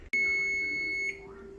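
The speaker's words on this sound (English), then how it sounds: "Let me just turn off the timer. It's driving me crazy." A kitchen timer gives a single loud, steady electronic beep lasting about a second while cookies bake, followed by quiet room tone.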